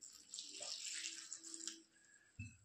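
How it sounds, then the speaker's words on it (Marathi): Water poured into a bowl of onion-greens bhaji batter, a light splashing trickle lasting a couple of seconds, near and fairly soft, ending with a brief low thud. "पाणी टाकून घेऊया"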